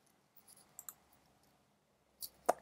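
A computer mouse clicking a few times while working in accounting software: faint, scattered light clicks, then two sharper, louder clicks close together near the end.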